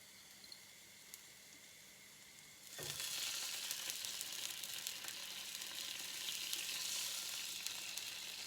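After a quiet moment, a pan with a little oil erupts into a bright, even sizzle as something is fried lightly, the crackling hiss holding steady and fairly loud to the end.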